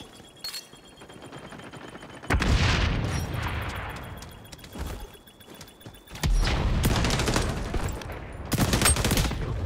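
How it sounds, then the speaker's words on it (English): Heavy explosive bursts and rattling gunfire from the shooter game XDefiant, with three loud broadband blasts rolling in between quieter stretches of distant shots. "Grenade out!"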